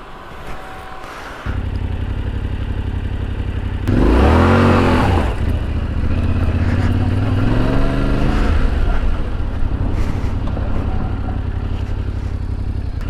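Yamaha Tenere 700 motorcycle engine ridden at low speed on a gravel road, a steady loud idle that swells into a revving pull around the middle, then settles back into a constant drone.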